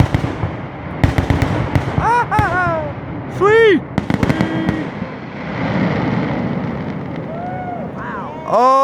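Fireworks at a family gathering in Lonaconing, Maryland, crackle and pop in sharp bursts and rapid strings over several seconds, with whistling rising streaks, while people shout and cheer nearby.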